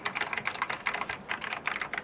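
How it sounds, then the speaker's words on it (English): Rapid clicky computer keyboard typing, close and steady, with dense overlapping keystrokes and no talking. "Why are you touching my clicky keyboard?"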